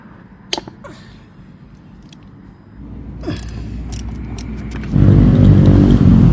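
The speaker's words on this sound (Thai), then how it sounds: "เสียงรถก็ดังแรงครับ บ้านติดถนนยังว่าครับ" Steady traffic rumble from a road next to a house swells louder partway through, a vehicle passing close by, with a few light clinks and taps of chainsaw parts being unbolted over the noise.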